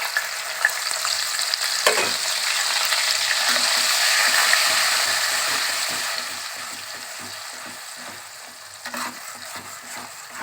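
A paste of onion, garlic, ginger and green chilli frying with chicken mince for chicken keema ghugni: a continuous close sizzle with occasional sharp spatula clicks, swelling midway then easing off.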